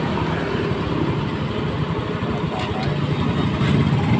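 Yamaha Mio i 125 scooter engine idling steadily after a kick-start, a continuous low rumble at close range with no talk over it.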